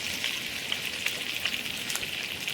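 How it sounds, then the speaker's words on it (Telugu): Okra pieces fry in hot oil with a steady, dense sizzle and scattered crackling pops throughout, close up and moderately loud, with no voices. "ఆయిల్ వేడెక్కాక ఇందాక మనం కట్ చేసి పెట్టుకున్న బెండకాయ ముక్కలు వేసేసుకోవాలి"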